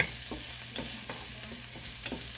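Garlic sautéing in a pan for fish sarciado: a steady, soft sizzle with several brief stirring scrapes spaced through it, close by and with no talking.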